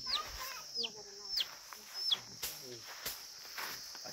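A large chicken at a village gathering gives a few brief squawks spaced apart, while people talk nearby and insects chirp faintly in the background.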